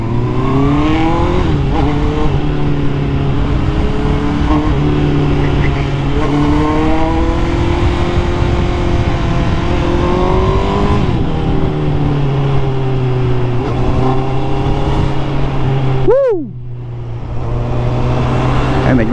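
A Honda CB650R motorcycle fitted with an Ixil Carbon Extreme exhaust and silencer revs hard on an open road, its loud engine note climbing and falling in long sweeps, then dropping sharply as the throttle closes before pulling again.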